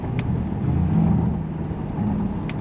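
A modified 850HP Cadillac CTS-V engine rumbles low and steady under acceleration, heard from inside the car for a couple of seconds.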